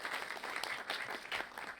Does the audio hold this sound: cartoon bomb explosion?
no